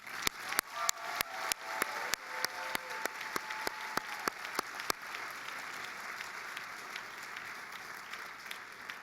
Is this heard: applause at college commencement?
yes